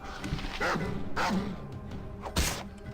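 A wild dog in the Baldur's Gate 2 video game barks several times and lets out a sharp yelp, set against a constant game ambience.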